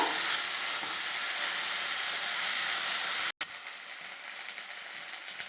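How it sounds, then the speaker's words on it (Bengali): Mustard and poppy seed paste sizzles steadily in hot oil while being stirred, a continuous close frying hiss with a brief break partway through. "সরষে পোস্ত বাটাটা তেলের উপরে দিয়ে দিয়েছি। এভাবে নেড়ে নেব।"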